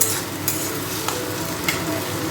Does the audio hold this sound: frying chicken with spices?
yes